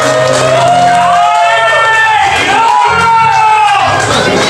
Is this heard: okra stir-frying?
no